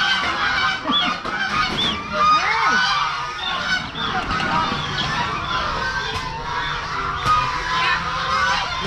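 A flock of about twenty geese kept at a temple honks repeatedly and close by, with loud, overlapping calls throughout and occasional voices in the background.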